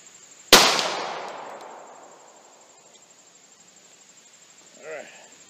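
A single sharp gunshot from a 1911 longslide pistol chambered in .45 Super firing 255-grain loads at an outdoor range, loud and close, with a long decaying echo, followed by steady insect chirping in the background.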